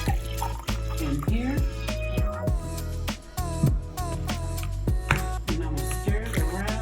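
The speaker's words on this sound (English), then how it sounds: "Okay, now I got to have this cup of water." Water poured from a cup into a bowl of cream of mushroom soup in a kitchen, a close trickling and dripping pour running throughout while a person talks over it.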